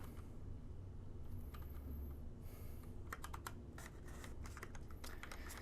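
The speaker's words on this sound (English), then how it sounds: "This is a really good keyboard" Rapid, quiet clacking of keys being typed on an all-black computer keyboard, irregular bursts of clicks over a faint steady background hum.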